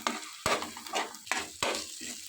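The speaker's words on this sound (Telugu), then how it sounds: "ఇలా అల్లం వెల్లుల్లి పేస్ట్ పచ్చివాసన పోయేంత వరకు వేయించుకుని" Ginger garlic paste fries with onions in a pan, giving a soft, steady sizzle broken by several short scraping stirs, close and fairly quiet, with no talking.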